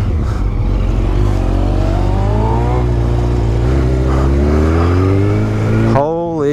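A Yamaha FZ-09 motorcycle engine revs and pulls hard while riding, its loud rising and falling tone steady under wind noise, ending with a quick burst of higher revs.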